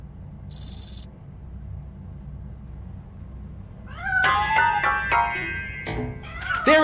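In the game RoboCop: Rogue City, a cat yowls and meows several times in quick succession near the end, after a brief high electronic tone and a low steady background hum.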